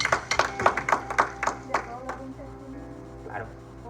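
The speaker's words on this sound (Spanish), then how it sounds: "Dale un fuerte aplauso al Señor" A church congregation claps for the Lord during a sermon, giving a run of distinct, close hand claps for about two seconds that fades out, followed by a voice and lingering room tone.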